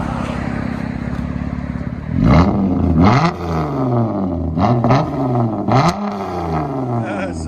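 Straight-piped 3.6L V6 in a Chrysler 200 idling rough and close, then blipped through a series of sharp, loud revs that climb and fall back, each burst snarling before settling to idle.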